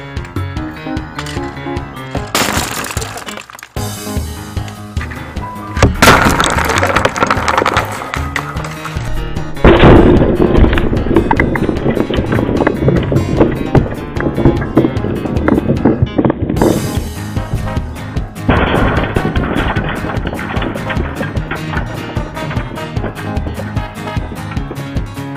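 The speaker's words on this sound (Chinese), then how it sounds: "这个爆炸威力真的太酷了，直接整个炸开来，哇 ！BB 弹四处满天飞啊！" An airsoft Mk3 toy grenade bursts open indoors near a box, a sharp loud crack followed by a spray of BBs rattling and bouncing around, with excited shouting voices after the blast.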